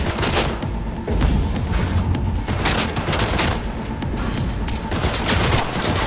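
Rapid gunfire from a gun in the video game Cyberpunk 2077: sustained bursts of shots with booming impacts, loud and continuous, with a brief dip before the firing resumes.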